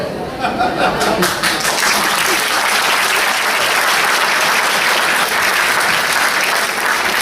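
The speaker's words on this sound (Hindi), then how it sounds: "तालियों की तो अपेक्षा मुझको है।" Audience at a Guru Ravidas Jayanti event breaking into loud, sustained applause, dense crowd clapping throughout with a little chatter and laughter mixed in.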